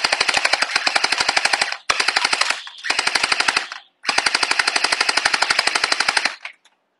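A custom Chermory Glock 17 gel ball blaster fires on full auto in several rapid buzzing bursts, each a dense rattle of shots with brief gaps between, loud and close with no voices.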